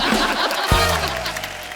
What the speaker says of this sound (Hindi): अश्विनी जी के तालियां बजाओ।